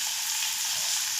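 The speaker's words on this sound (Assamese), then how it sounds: "2 মিনিটমান আমি ভাজি লওঁ।" Chicken for chilli chicken frying in a pan, a bright, steady, close sizzle that holds evenly throughout with no speech.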